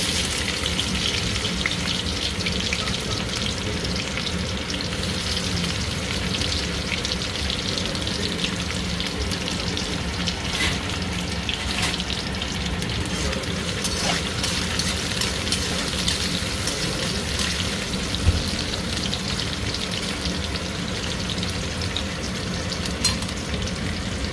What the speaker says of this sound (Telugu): ఇప్పుడు వేసేద్దాం ఉల్లిగడ్డలు